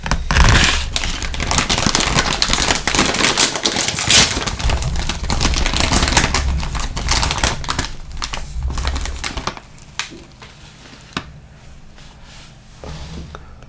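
A bag of honey and truffle barbecue potato chips being opened and handled, dense crinkly plastic crackling and rustling throughout, loud and close, easing into sparser crackles near the end.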